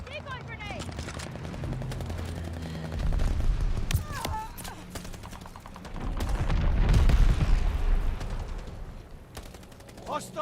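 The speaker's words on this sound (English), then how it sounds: "Friendly bombing run on the way." A friendly bombing run in the Call of Duty Vanguard video game brings rapid gunfire, then a rumbling wave of explosions swelling loudly midway before fading, with brief spoken callouts in between.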